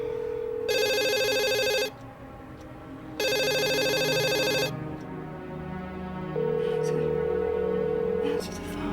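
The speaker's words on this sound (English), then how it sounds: "Answer the phone." A telephone rings in two long, loud bursts close by, each a bright electronic trill, followed by a steady, sustained tone.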